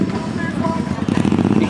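Motorcycles idling and revving at a crowded bike week rally in 2020, engines rumbling steadily close by amid crowd chatter and background voices.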